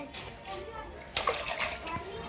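Children splash water while swimming, producing a few bright, sloshing bursts in the middle with children's voices chattering around them.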